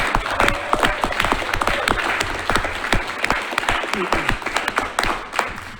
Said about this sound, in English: And so round of applause to them.